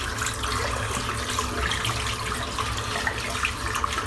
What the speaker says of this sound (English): I'm just going to rinse out the bowl now.